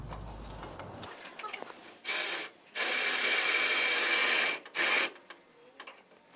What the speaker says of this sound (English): Then you want to tighten the 7/16 bolt using a 17mm socket.